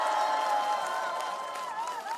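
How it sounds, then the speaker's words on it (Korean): Outdoor election rally crowd in a station's central square applauding, a steady wash of clapping mixed with a few cheers, fairly loud throughout. "이 자리에 계신 모든 파주 청년들에게 힘찬 응원의 박수 보내주시기 바랍니다"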